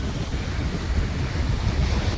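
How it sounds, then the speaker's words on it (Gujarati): Heavy sea surf pounds continuously at Mangrol harbour on the Gujarat coast under a red alert, with strong wind roaring across the microphone and fishing boats moored nearby; a steady, loud wash of waves with no pauses. "અને જો અત્યારે મોજો ફાટી રહ્યો છે."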